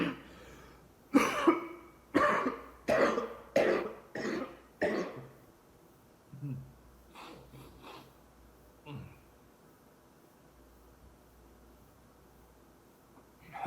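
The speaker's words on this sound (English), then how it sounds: "I just had a massive like cough attack" A massive coughing fit bursts out close to the microphone as a rapid run of about six harsh coughs, followed by weaker, scattered coughs and throat sounds that taper off into quiet.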